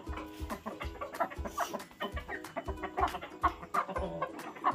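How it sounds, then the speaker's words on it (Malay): A big black Ayam Cemani rooster clucks in a rapid, steady run of short, close calls at an outdoor exotic-animal park, with no talk. "Yang ni nama dia ayam selasih ataupun ayam hitam."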